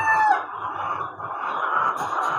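Layer hens cluck and call in a busy poultry shed with three-tier H-type cages on an automatic conveyor belt system, a continuous chorus of overlapping squawks and chatter at moderate level.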